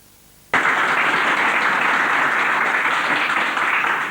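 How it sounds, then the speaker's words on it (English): Studio audience applause on a South African television health talk show, starting abruptly after a brief near-silence and then holding as a loud, dense, sustained wash of clapping. "All that applause is for Andrea."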